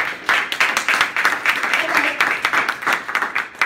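Audience clapping at a gang awareness seminar at Rutgers University, a steady patter of hands from a sizable crowd, close and fairly loud throughout with no talk over it.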